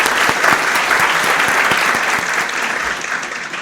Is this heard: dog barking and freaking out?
no